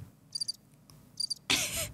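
Cricket chirps as a sound effect, short high pulsed trills in two quick bursts, close and crisp over near silence, followed by a sudden loud noisy burst at the end.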